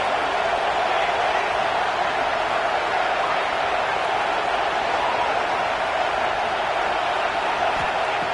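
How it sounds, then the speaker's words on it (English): A stadium crowd at a football game roars as a steady, dense wall of noise, loud and unbroken throughout with no distinct voices standing out. "Listen to this crowd noise. This stadium is vibrating."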